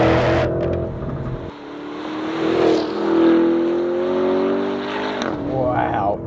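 A 2023 Porsche Cayenne accelerates hard with its exhaust opened, the engine note climbing through a gear, dropping at a shift and rising again, loud and close with a whirring tone and some talk over it.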